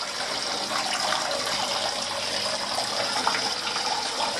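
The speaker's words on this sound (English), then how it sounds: "And the pump's working again." A lobster tank aquarium pump runs steadily, giving a soft, continuous trickle and rush of circulating water close by, with no voices over it.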